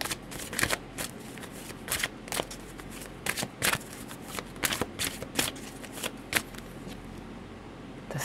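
A deck of tarot cards is shuffled close up during a reading, giving a steady run of crisp riffling and flicking bursts with short gaps, with no talking over it.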